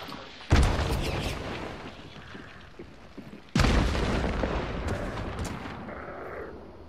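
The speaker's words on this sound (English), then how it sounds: "I just threw my grenade in there." Two heavy grenade blasts in the game Hunt: Showdown, each a sudden loud boom trailing into a long rumbling decay, about three seconds apart.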